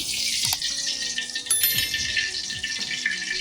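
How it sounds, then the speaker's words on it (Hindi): A cup of cooking oil poured into a kadhai (wok) while making keema, a steady, close liquid hiss that runs the whole time with a few brief clinks and no talk. "इस वक्त मैं कढ़ाई में ये 1 कप जो ऑयल डाल रही हूँ"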